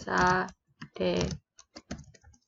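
A location typed on a computer keyboard: quick, light key clicks in a short irregular run after two louder tonal bursts.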